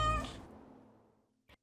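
A black cat on an island farm in Chesapeake Bay gives one drawn-out meow that starts loud and trails off slowly, followed by a faint short thump, with no voices present.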